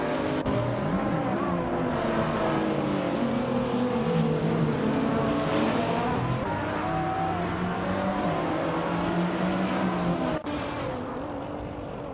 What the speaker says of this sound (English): Sit back and enjoy the exciting AI car races with us.